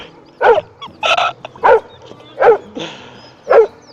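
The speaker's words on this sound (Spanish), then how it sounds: "Le ladra las carpas, loco." A dog barks at carp in the water, five loud, close barks spaced unevenly with short gaps between them, over faint outdoor background noise.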